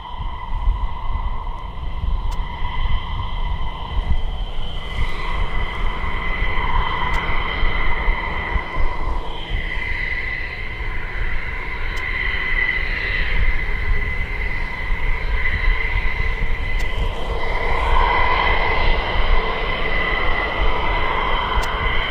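A steady engine roar with rising whines as military aircraft engines start up at a distance at RAF Lakenheath, continuous and moderately loud, with no talking.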